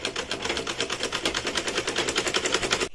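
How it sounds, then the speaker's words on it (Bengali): Sewing machine stitching the waistband of pyjamas at home, a rapid, even mechanical rattle of needle strokes running steadily up close before stopping abruptly at the end. "এখন আম্মু কোমরটা সেলাই করে নিচ্ছে"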